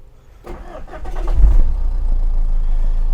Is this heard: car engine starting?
yes